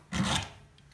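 A hand file rasps across a chainsaw tooth during sharpening: one close, gritty stroke lasting about a third of a second, then quiet.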